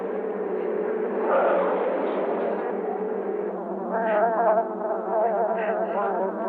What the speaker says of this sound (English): the bees are coming at me!